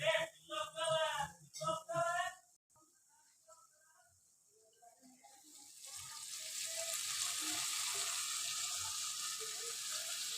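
Spinach goes into a pan of frying onions and ginger paste, a hissing sizzle that swells and holds steady after a short stretch of someone talking and a near-quiet pause.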